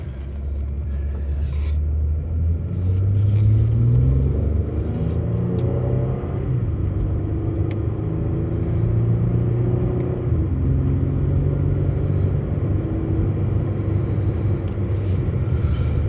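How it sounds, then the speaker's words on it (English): A 2014 Chevrolet Impala Limited 9C1 police-package car engine rumbles steadily while driving, its low drone rising and falling slightly as it revs, heard from inside the cabin with no talking. "I'm gonna be quiet here so you can listen to it run"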